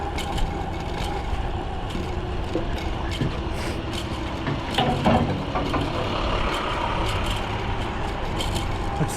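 Heavy trucks rumble nearby with engine noise and scattered clanks and hisses, a busy street work scene with no talking.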